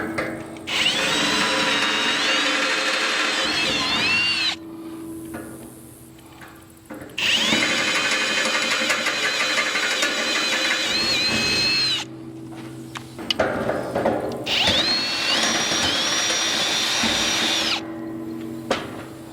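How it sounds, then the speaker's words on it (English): A power drill bores holes in the steel frame of a red iron shop building, whining loudly in three long sustained runs with brief quiet gaps between them, pitch wavering under load. "So we'll have to get the holes drilled on this side."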